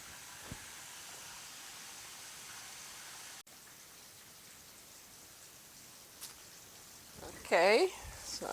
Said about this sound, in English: So we'll let it fry for a little bit, we'll check it, and I'll let you know the exact frying time when they're done.